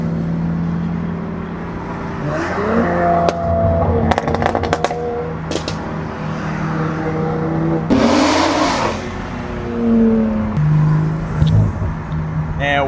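A 900 hp single-turbo BMW G80 M3 driving close by, engine rising and falling through several throttle surges and gear changes, with sharp crackles and pops between pulls.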